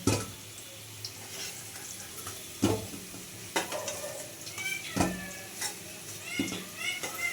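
Potatoes fry in a pan on a gas stove, a soft steady sizzle broken by sharp clinks and scrapes of a utensil as they are turned and lifted out.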